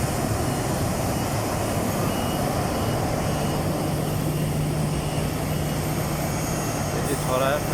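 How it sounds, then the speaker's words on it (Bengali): A pushback tug moving an aircraft into position on the apron, a steady loud engine drone with a low hum and a faint beeping near the end, airport noise all around. "একটি পুশকার্ট কত বড় জাহাজকে ঠেলে, যে মাঝখানে পজিশনে রাখলো।"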